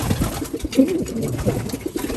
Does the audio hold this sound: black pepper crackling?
no